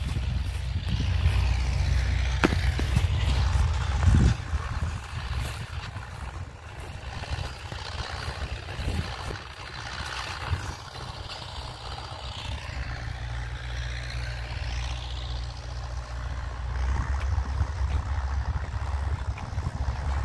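Tractors harrow a hillside pasture during reseeding, and their engines rumble low and at a middling distance. The drone swells and fades with passing noises and wind-like rushes over about twenty seconds.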